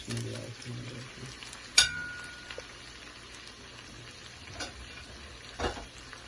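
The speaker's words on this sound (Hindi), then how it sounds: "जो फिश हमने फ्राई की थी वो आपने इसमें डाल देनी है" Fried fish going into a butter garlic sauce, giving a faint, low sizzle with a few sharp clinks and pops, heard alone with no talking.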